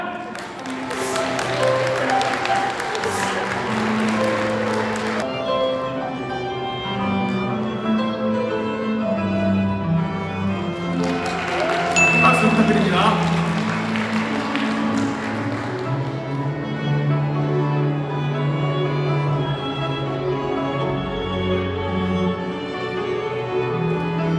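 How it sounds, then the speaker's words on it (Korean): Steady applause from wedding guests for the bride's entrance fills the whole stretch, with dense clapping swelling a little midway over a soft musical background. "큰 박수 부탁드리겠습니다"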